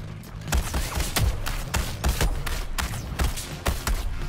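Gunfire in Suicide Squad: Kill the Justice League comes as a rapid run of sharp, close shots at an uneven rhythm, sustained loudly throughout.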